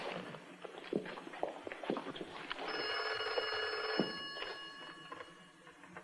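A telephone rings in a Paris apartment in a crime and espionage series, a bright trilling bell rising midway and holding for over a second, faint under footsteps and scattered clatter.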